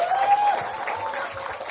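An audience at a Democratic Party political event in Cheongju, South Korea applauds, a steady wash of clapping from a crowd, moderately loud and continuous through the short moment.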